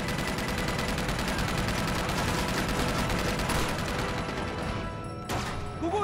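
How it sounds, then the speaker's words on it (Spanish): A mounted machine gun in Uncharted 2 rattles off a long, steady stream of rapid shots, loud and close, then cuts off near the end with a sharp blast. "Hay una ametralladora montada ahí."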